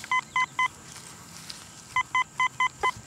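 A Minelab CTX metal detector gives a worn-silver-dime-like signal during a field dig, a series of short, clean electronic beeps: three quick tones, a pause, then five more, over faint outdoor background.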